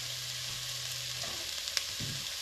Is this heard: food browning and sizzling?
yes